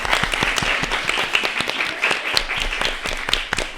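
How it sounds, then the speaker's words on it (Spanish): A studio audience claps on a Spanish-language program, a lively burst of applause with distinct individual hand claps audible in the mix, steady and moderately loud from start to finish. "¡Aplauso!"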